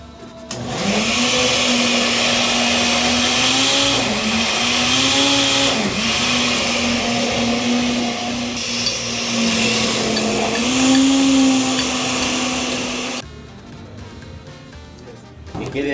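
A kitchen blender whirs loudly as it purees a thick birria spice sauce, its motor droning at a steady pitch with a few brief dips and rises before cutting off near the end.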